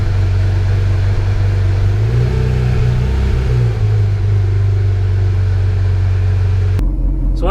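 A stock Porsche GT3 engine idles with a deep, steady rumble, close by, rising briefly in pitch midway before settling, then cutting off near the end.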